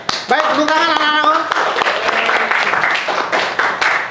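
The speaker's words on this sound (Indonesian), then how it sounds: "Baik, tepuk tangan anak-anakku." Schoolchildren in a classroom clap together, a busy, moderately loud patter that starts as a teacher's voice fades and carries on for a few seconds.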